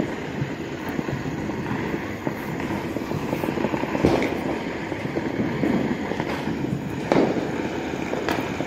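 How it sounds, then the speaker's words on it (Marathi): Diwali firecrackers burst in a dense, continuous crackling barrage with several louder sharp pops standing out, heard from a moderate distance without any talk. "बघा कसा दना दना फटाफटा दिवाळीचे फटाके वाजायला लागले"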